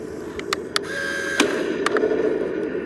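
Toy 6mm BB gun, an M1A2 model, firing a few sharp, quick clicking snaps at irregular intervals over a steady background hum, close and fairly loud.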